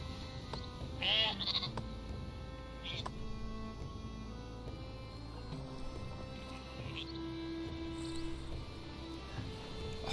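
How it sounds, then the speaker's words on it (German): Sheep bleats from the strategy game Northgard as a sheep is slaughtered, a couple of short bleats early on over a steady bed of game music and ambient tones. "schlachten ein Schaf"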